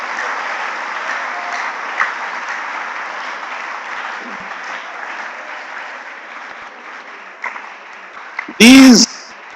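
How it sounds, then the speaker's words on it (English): A student audience at a mentorship and career talk gives a round of applause, a steady wash of clapping from many hands that runs throughout, ending with a brief loud electronic burst near the end. "Then give them a round of applause."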